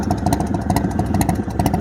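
A 2000 Harley-Davidson Softail Springer V-twin idles loud and close through a D&D FatCat 2-into-1 exhaust, its lumpy, uneven pulsing beat running steadily throughout.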